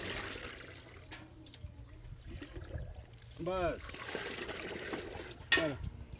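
Water is poured for shikanjvi lemonade at a Muharram langar, a soft trickling stream with brief splashy bursts, heard under busy voices talking nearby.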